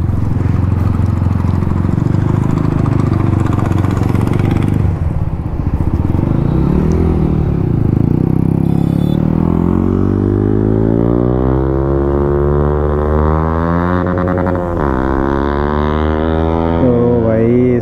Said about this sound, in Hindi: आवाज़ सुन रहे हैं आप लोग, देख रहे हो फटाका भी दे रहा है यार